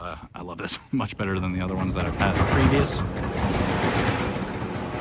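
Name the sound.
2023 Ford F250 retractable bed cover retracting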